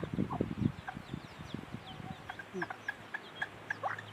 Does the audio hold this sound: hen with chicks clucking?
yes